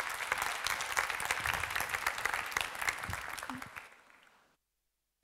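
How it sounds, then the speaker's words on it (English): After a keynote talk at a WordCamp, the audience breaks into sustained applause with dense, crisp clapping that fades out and stops abruptly into silence. "Big round of applause, everyone"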